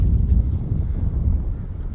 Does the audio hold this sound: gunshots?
no